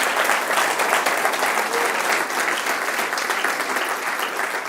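A church congregation applauds loudly and steadily, a thick unbroken patter of many hands that holds for several seconds and eases slightly toward the end.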